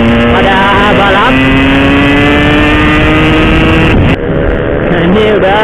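A pack of Yamaha RX King two-stroke motorcycles races along a road, engines loud, close and steadily revving with rising and falling pitch, one bike's note dipping briefly near the end.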